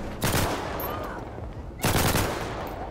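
Two sharp bursts of rapid gunfire from a gun with heavy recoil in the video game GTA 5, loud and close, with a low rumbling background between them.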